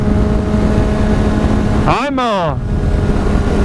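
Yamaha FZ6R motorcycle fitted with a Hindle exhaust, revving on a dyno: a steady engine drone with one sharp rev that sweeps up and back down, loud and close.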